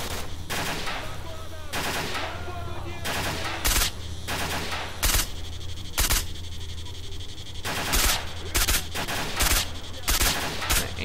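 Gunfire in STALKER, loud sharp single shots and short bursts spaced irregularly over a continuous low background hum, close and punchy.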